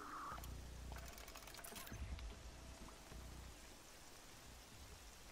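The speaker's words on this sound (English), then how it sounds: "And of course, the rain sets in." Steady rain falling in the video game Horizon Zero Dawn, a continuous hiss of rainfall with low rumbling underneath, constant throughout and without speech.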